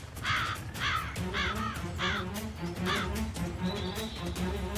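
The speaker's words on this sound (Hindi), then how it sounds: "अरे ओ कौवे" A crow caws repeatedly, five or six harsh, evenly spaced calls close by, over a low background hum.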